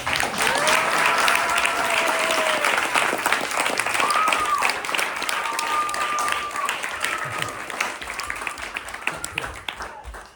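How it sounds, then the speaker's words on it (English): Steady applause from an audience clapping for children at a school presentation at Gaura Narayan Vidyalay, loud and continuous for about ten seconds, with chanting voices and singing layered over it before it fades near the end. "We're clapping for kids."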